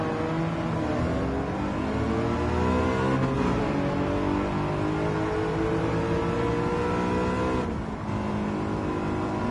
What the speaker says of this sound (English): Nine 11 turbo, what a beautiful car.